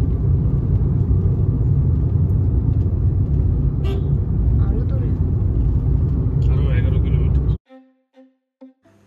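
A car cruises smoothly along a scenic rural road near Keshobpur, Jessore, with a steady, close engine and tyre rumble that cuts out near the end, leaving brief speech.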